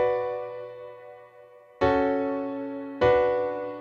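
Sustained synth chords from an FL Studio progression with inversions, three chords struck in turn, each ringing and slowly decaying, the later two attacking sharply and louder, clean and alone with no voices.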